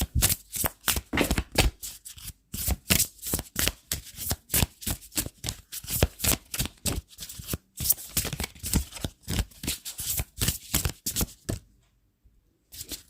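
Tarot cards shuffled by hand, a steady rapid series of crisp riffling slaps repeated over and over, close and clear, ending in a brief pause.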